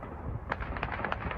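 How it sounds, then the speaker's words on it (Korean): Explosions and artillery shelling in a Ukrainian city sound as a rapid series of muffled blasts and cracks, repeating irregularly over a dense, rumbling background. "도심에는 포격과 함께 폭발음이 울려 퍼졌고"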